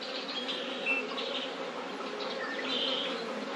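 Honey bees buzz at a hive frame laden with pollen and honey, a soft, continuous drone with a few individual bees whining past up close.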